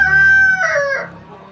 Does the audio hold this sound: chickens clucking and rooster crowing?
yes